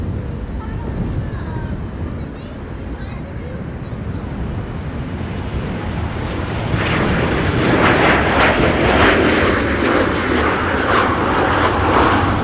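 A jet airliner landing on runway 27 at Amsterdam Schiphol in storm-force winds, a loud, continuous engine roar mixed with heavy wind buffeting that swells louder midway as the aircraft passes close.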